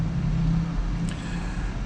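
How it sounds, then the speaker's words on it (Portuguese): Inside a VW Virtus running on gasoline on a hot day, the air conditioning blows a steady, even whoosh with a low cabin hum underneath, unbroken and moderately loud. "O ar tá ligado, por isso tá esse barulho de ar-condicionado."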